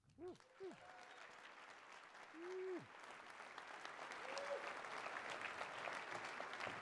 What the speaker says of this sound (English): everybody please help me welcome and give a round warm of applause to Jayson Street.